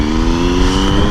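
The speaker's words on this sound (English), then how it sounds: "It has the most obnoxious exhaust in the history of exhausts. It's a Leo Vinci SBK" A 2012 Triumph Street Triple 675 motorcycle fitted with a loud Leo Vinci SBK aftermarket exhaust, heard in Long Beach, California. The engine holds a steady, close, raspy drone for about a second.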